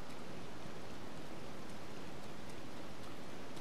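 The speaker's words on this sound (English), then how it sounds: "Frickin' rain has to strike right now, doesn't it?" Rain falls steadily in The Legend of Zelda: Tears of the Kingdom, a dense, uniform hiss of downpour at constant level throughout with no pauses or distinct drops standing out.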